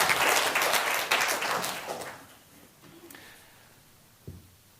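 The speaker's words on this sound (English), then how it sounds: "Big round of applause for agreeing to do that." Audience applause, loud and dense at first, then thinning out and fading over a few seconds, ending with a single low thump.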